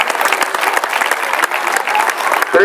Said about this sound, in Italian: un grosso applauso per la loro presenza.